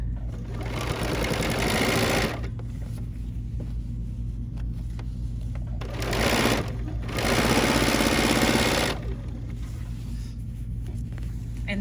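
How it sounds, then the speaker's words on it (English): A sewing machine with a D foot top stitching along the folded edge of a quilt binding, running in a steady close whirr with brief pauses and speed changes, no talk. "And now I'm just gonna top stitch."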